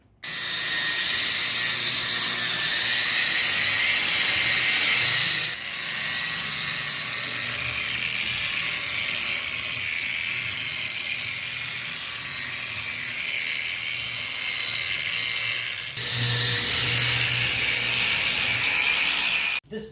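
A VEVOR telescopic electric drywall sander with dust bag runs continuously, a loud steady motor whir and rasp that dips briefly in level twice and holds on without talk.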